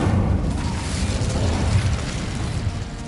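The Incendio fire spell is cast in the video game Hogwarts Legacy, giving a loud, dense roaring whoosh of flame with a low booming rumble that holds steady for about three seconds.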